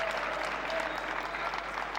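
Steady applause follows a table tennis point early in the first game of a men's singles quarterfinal at the 2013 Russian Open, a broad even wash of clapping throughout without talk.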